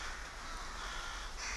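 Rooks roosting in a bamboo grove give repeated harsh caws over a dense, hissing background of many birds, the calls overlapping and moderately distant.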